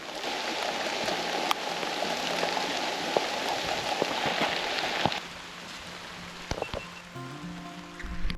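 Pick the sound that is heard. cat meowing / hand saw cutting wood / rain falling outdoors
rain falling outdoors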